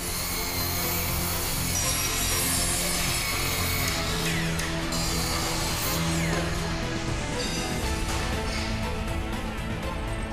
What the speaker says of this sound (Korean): 굉음과 함께 순식간에 나무를 절단하는 전기톱은 언제나 위협적이다.